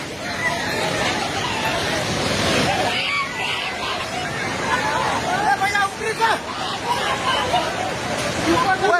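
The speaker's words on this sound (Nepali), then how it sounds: "हजुर खोला हेर्नु सक्नुहुन्छ" A flash-flooding river in Nepal's Rasuwa district roars as a constant, dense rush of water, while a crowd of people shout and call out over it.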